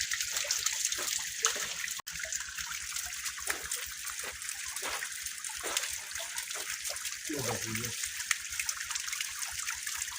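Mountain waterfall in Balochistan fed by snowmelt: constant bright rushing and splashing water fills the scene, with someone speaking over it in bursts.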